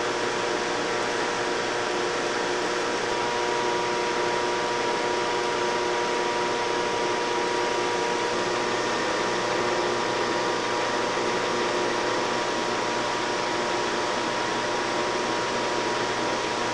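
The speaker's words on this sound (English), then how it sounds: "Vacuum system." Vacuum system of the JPL Dynamitron nuclear particle accelerator in 1994, running as a loud, steady mechanical drone with a constant hum and faint tonal whine, unchanging throughout and with no voices.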